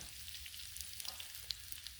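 Breakfast food sizzles and fries steadily on a Blackstone griddle, a close, even crackle with small pops scattered throughout and no talking.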